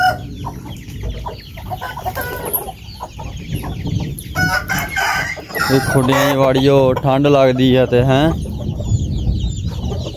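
Chickens and chicks cluck loudly and steadily at close range on a farm, with harmonic rooster-like calls rising near the end, while someone talks over and between the birds.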